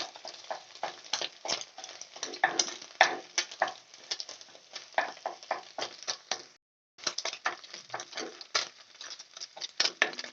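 Food for a children's tiffin-box recipe stirred and fried in a pan, breaking into small pieces: steady patter and sizzle with frequent scraping strokes of the spatula, close and continuous, with one brief pause midway.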